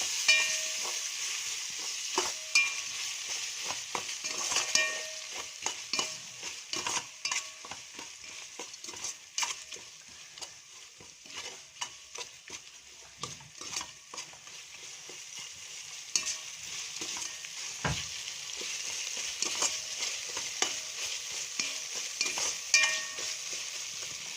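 Ginger garlic paste fries gently over a low flame, a soft steady sizzle under frequent scraping and stirring strokes of a spoon against the pan, close and fairly quiet.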